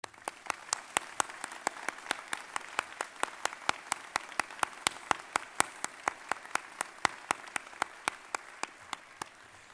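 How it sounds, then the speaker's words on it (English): A seated audience at a grade 12 graduation ceremony applauds the graduates' parents, a long, even wash of clapping with distinct sharp claps ticking through it at a steady pace, moderately distant. "please join me in applauding your parents"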